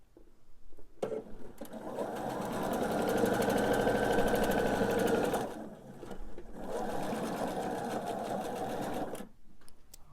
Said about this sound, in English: I'm just going to sew my scant 1/4 inch seam, and I am going to back stitch at the end here